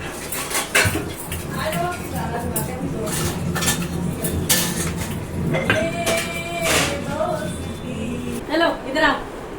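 Dishes and cutlery being washed at a home sink during a family anniversary gathering, with steady clinks and clatter of metal utensils and plates, close and fairly loud, while women chat over the clatter throughout.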